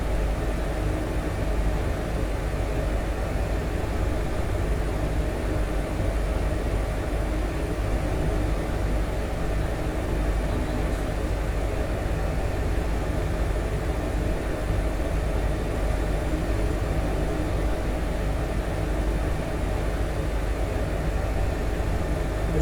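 An Airbus H145 helicopter moves forward while descending, heard as a constant, dense roar of rotor and turbine noise from inside the cabin, steady and unbroken throughout.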